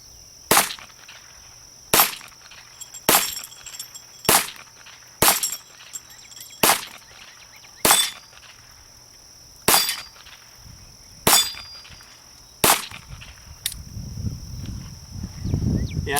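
A Ruger Mark I Standard pistol fires ten sharp, loud shots at uneven intervals of one to two seconds, with a faint rumble after the last one.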